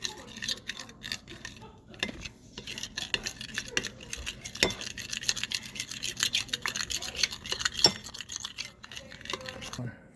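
Spoon stirring homemade slime with a borax solution, giving repeated scraping and clinking taps against a container, steady and close, with a voice speaking at times over the mixing.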